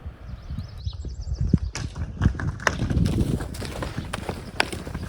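Belgian draft horses move around a barnyard with a wooden fence, their hooves thudding in scattered, irregular clops at close to middle distance, with some rustling and outdoor noise between steps.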